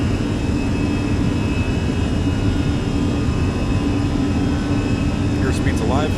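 Steady, loud roar of an Air Canada airliner's jet engines spooling at takeoff power in a flight simulator, a continuous low rumble and hiss with a few faint chirps near the end.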